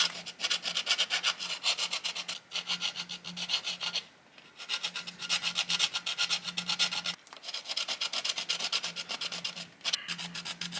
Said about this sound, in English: what I want to do is actually cut it open and show you what the wax job looks like on the inside